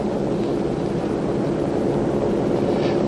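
A fixed-wing airplane takes off, a steady loud broadband engine roar that stays constant throughout, with no voices over it.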